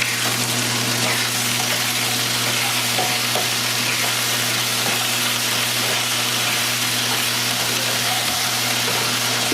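Diced potatoes fry in hot oil in a skillet, giving a steady, continuous sizzle with occasional light stirring scrapes and a low hum underneath, all at an even level.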